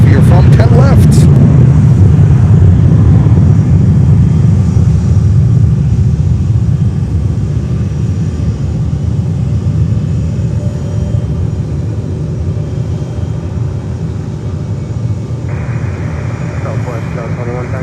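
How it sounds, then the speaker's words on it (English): A WestJet Boeing 757-800 roars down runway 10 left at Fort Lauderdale-Hollywood airport on takeoff, a loud, sustained jet rumble that slowly fades as it climbs away. "757-800 taking off here from 10 left."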